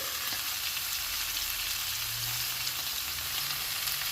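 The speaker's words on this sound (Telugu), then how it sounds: "అదే మూకుడులో ఇప్పుడు ఈ రెడ్ క్యాప్సికమ్ ముక్కలు వేస్తున్నాను" Red capsicum pieces fry in a pan for a Telugu red capsicum chutney, giving a steady, even sizzle with a soft low rumble underneath and no voices.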